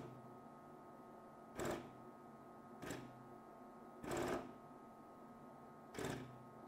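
A BUCHI V-100 laboratory vacuum pump motor that is not speed controlled, giving four short, separate bursts at full power spaced about a second or two apart over a low steady hum, close and quiet.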